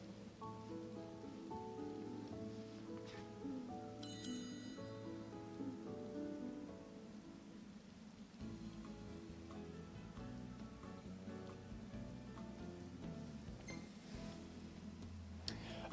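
Rain falls steadily on surfaces in the Final Fantasy XV open world as a soft, continuous patter under quiet game music, faint throughout with no speech.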